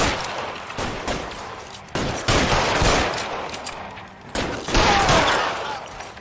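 Dense bursts of automatic gunfire and rapid shots ring out in several loud volleys, with brief gaps between waves of firing, close and harsh over the whole stretch.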